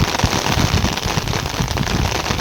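A heavy rain shower pours down over farmland, a dense, steady crackling hiss with no break, loud and close throughout and no voices.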